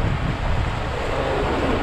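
Steady wind rushes and rumbles across the microphone, loud and continuous with no voices, as weather turns bad while fishing for parrotfish.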